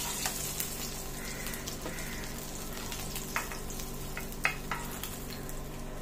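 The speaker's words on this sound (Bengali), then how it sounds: "এয়া মই কাৱৈ মাছকেইটা ভাজি ললোঁ, মই অলপ" Koi fish fry in hot oil with a continuous moderate sizzle and crackle, broken by a few sharp pops and light utensil clicks.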